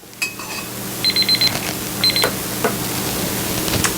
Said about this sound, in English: I've got my timer set, so I'm going to turn that on.